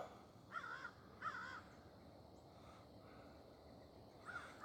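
Several crows caw in the open outdoors on a morning in squirrel-hunting country, three short bursts of harsh calls at moderate distance over a steady, quiet background hiss.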